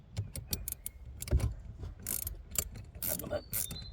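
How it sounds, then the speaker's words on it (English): A 17mm ratcheting spanner tightens a bolt during coil spring and shock absorber work on a Mercedes CLK 320, giving a close, irregular run of sharp metallic clicks with short pauses between strokes. "Get the 17mm ratcheting spanner on there and make sure it's in the righty-tighty position"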